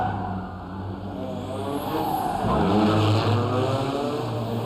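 Pickup race cars roar around the Bang Saen circuit in Thailand, one overtaking another; loud, layered engine drones rise and shift in pitch as the cars pass close by, with no talk.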